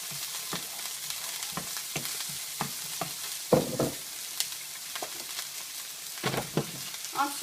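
Thinly sliced onions going into a pan of golden fish fillets over medium heat, a steady soft sizzle and frying hiss with scattered stirring clicks and scrapes, close by with no voices.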